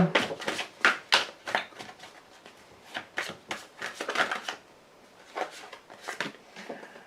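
A deck of cards being cut and shuffled by hand, close and crisp, in quick riffling bursts with short pauses between them.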